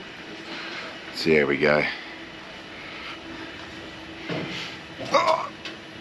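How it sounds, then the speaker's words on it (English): A steady airliner engine hum from a plane during boarding drones throughout, with a person speaking briefly over it at a few points. "I'm just about to board this plane"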